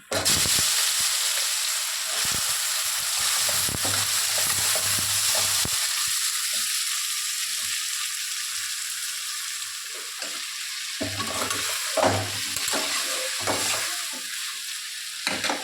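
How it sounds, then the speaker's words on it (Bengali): Chopped ash gourd pieces fry in hot oil with black cumin, a loud dense crackling sizzle that settles into a steadier hiss, with intermittent scraping stirs near the end. "এবার যে চাল কুমড়োটা কেটে রেখেছি এটা দিয়ে দেবো তেলে"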